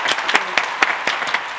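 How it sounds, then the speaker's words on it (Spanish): An audience applauds in a short burst of clapping, with sharp individual claps standing out over a steady patter, loud and close. "Un fuerte aplauso."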